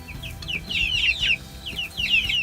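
Chickens of a feathered-legged, pea-combed American breed cluck in a series of short, bright calls, coming in clusters with brief pauses, fairly close and clear over a low background.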